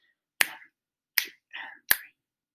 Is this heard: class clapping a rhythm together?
yes